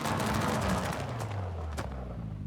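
A time-attack Mitsubishi Evo with anti-lag in Forza Horizon 5 fires a dense, loud barrage of exhaust pops and bangs over a roaring engine, sounding almost like rapid gunfire.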